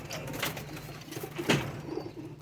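Young pigeons in a cage giving soft, repeated throaty coos at close range, with a few louder calls among faint rustling.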